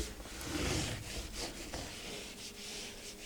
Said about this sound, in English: This will come off very easily with just a microfiber wipe.